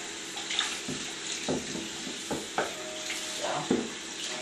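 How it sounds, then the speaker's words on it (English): Tap water runs while a container is rinsed out, a soft steady flow broken by sloshing and light knocks of the container, fairly faint and close. "And then you just want to rinse it around a little bit and clean it out."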